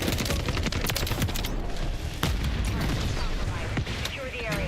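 Dense, continuous automatic gunfire and explosions from a Call of Duty: Modern Warfare III multiplayer match on the Tokyo map, with rapid overlapping bursts, occasional booms and voice callouts mixed through the chaotic battle.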